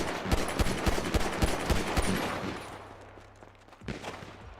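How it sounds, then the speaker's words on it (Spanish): Rapid bursts of gunfire in a roleplay video game, sharp repeated shots in quick rhythm that fade out, then a single louder blast near the end. "es que me llegan tiros del cielo"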